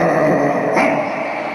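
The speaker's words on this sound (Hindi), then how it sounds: "जहाँ पे ढेर सारे कुत्ते हो" Dog growling close by in a low, continuous rumble with a brief sharper rise partway through, loud and alone.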